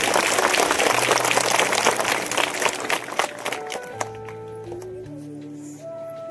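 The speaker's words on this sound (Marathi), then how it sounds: "जोरदार टाळ्या झाल्या पाहिजे।" A crowd at an Independence Day flag hoisting claps loudly and steadily, then the applause fades as a sustained tone from a horn or instrument comes in.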